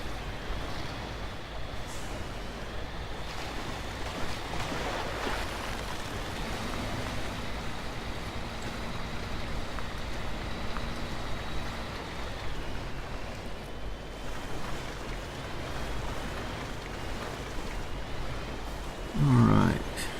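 A heavy off-road truck in Spintires: Mudrunner wades through a water ford on a logging map, its engine droning steadily under a continuous rushing wash of water, with a splashy burst near the end.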